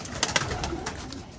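Pigeons at a rooftop loft in Rampur give soft, faint coos over a low background hum, with a few brief fluttery bursts.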